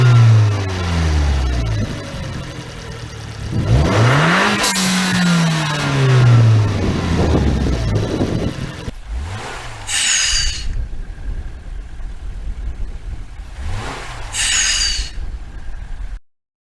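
A car engine revs hard several times, each rev falling away into a sharp hissing whoosh from a fake turbo blow-off valve, loud and close, with later revs followed by distinct bright hissing bursts.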